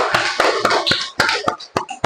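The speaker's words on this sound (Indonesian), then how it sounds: "Terima kasih buat Kimi, tepuk tangan dulu." A short burst of classroom applause, several sharp hand claps in quick uneven succession, close and fairly loud, with no talking.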